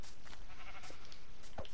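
Sheep bleats from the video game Minecraft sound over a constant bed of game background noise, a short bleat rising briefly near the end.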